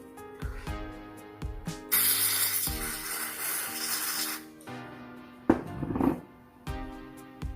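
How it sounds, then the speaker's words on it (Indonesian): Carburetor cleaner sprays onto a Ninja RR motorcycle's PWL 26 carburetor in a long, steady hiss with shorter bursts, close up, mixed with clicks and handling noises of the parts. "setelah kita semprot semuanya pakai ini ya, pakai carbo cleaner"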